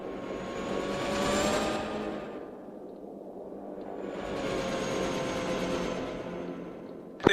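A military helicopter hover taxiing to a runway, a steady loud rotor and turbine roar that swells, dips briefly and swells again, heard close with no talk.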